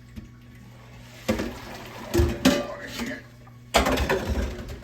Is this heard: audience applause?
no